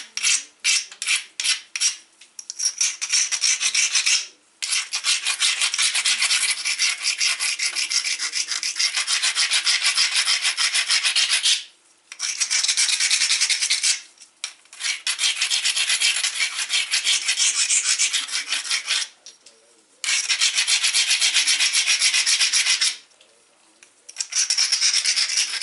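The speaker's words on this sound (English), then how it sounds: "next thing you're going to do is you're going to take your grinder, just get everything that doesn't want to be there off." A rotary grinder works a flint preform for knapping, producing a sustained loud, rasping abrasion in long bursts broken by several brief pauses, with no talking.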